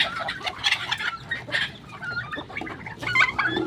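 Hungry pet chickens and turkeys cluck and call repeatedly at close range, several birds overlapping in busy, uneven bursts.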